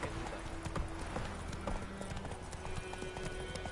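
Roach, a horse in the video game Witcher 3, clops along with a steady, close rhythm of hoof strikes that continues throughout with no speech.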